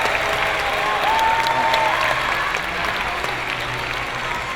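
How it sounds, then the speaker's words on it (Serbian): Sustained applause from an audience at a motivational speech, a dense, even roar of clapping that stays strong throughout, with a faint tonal whine briefly rising above it. "Aplauz svi."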